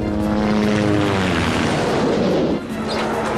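A loud, steady rotor and engine roar of a helicopter overhead, with a brief dip near the end.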